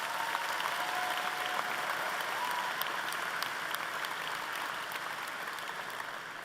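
A large audience of thousands at a Colorado State University convocation applauds in a broad, sustained wash of clapping that tapers slightly toward the end.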